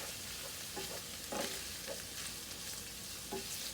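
Vegetables and broccoli stir-fry with beef in a hot pan, giving a soft steady sizzle with a few faint stirring clinks and no voices.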